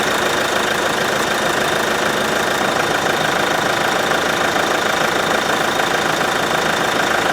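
A Ford S-Max TDCi diesel engine idles after a boost start, with a steady close rattle and knock running without a break. No one speaks.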